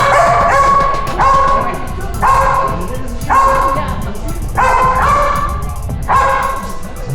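A trained dog barking on command at a resort show, giving six loud, evenly spaced barks close by, with a faint voice in the background.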